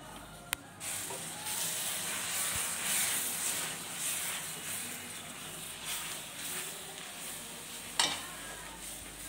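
Maize flour mixture being stirred into warm milk in a pan for sweet peda: a steady soft sizzle and hiss with faint scraping, a couple of brief sharp clicks, no talk.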